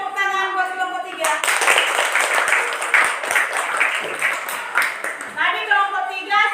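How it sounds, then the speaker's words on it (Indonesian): A classroom audience applauds a group presentation, a dense burst of clapping lasting several seconds, with brief tonal chimes before and after it. "tepuk tangan buat kelompok 3"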